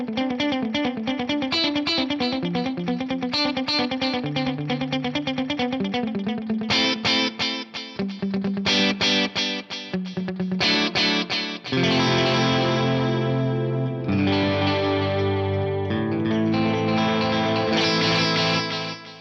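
An electric guitar plays busy riffs and sustained chords through a shimmering, wobbling modulated rack delay effect that leaves repeating echoes trailing behind each phrase.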